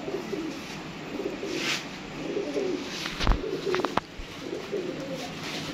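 Pigeons coo in a hobbyist's loft with a female among the birds, soft repeated cooing over a steady murmur, with a few sharper clicks and flutters near the middle.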